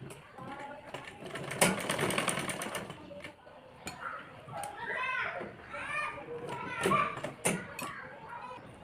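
A sewing machine stitches fabric for a double-frill umbrella-cut top, a short whirring burst of rapid needle strokes, with a person talking and children's voices around it.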